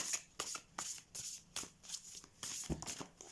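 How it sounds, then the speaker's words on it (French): Tarot cards being shuffled by hand, a rapid run of riffling bursts and soft slaps repeating in close succession, near and clear with no talk. "Alors, je vais les mélanger."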